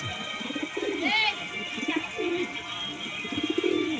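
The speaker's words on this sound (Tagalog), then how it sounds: "Ganda ng kalapate, babae yan." A female racing pigeon coos close by, several low rolling coos in a loose rhythm with a brief higher chirp in between, over a steady background hum.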